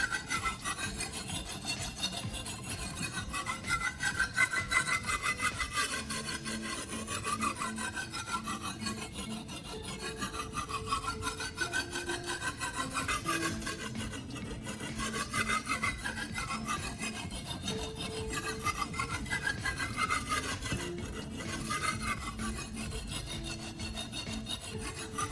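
Steady, repeated rasping strokes of a knife blade scraping along an abrasive sharpening surface by hand, slow and even along its full length, continuing without pause and with no voices.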